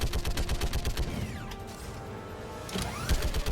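Rapid bursts of gunfire in the sci-fi shooter Mass Effect 3, a fast run of sharp shots in the first second followed by another burst near the end, with mechanical game noise in between.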